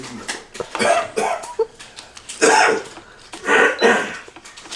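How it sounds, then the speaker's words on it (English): Repeated dry, harsh coughs come in short bursts, loud and close, with brief pauses between fits. "always gets that dry, painful sounding cough"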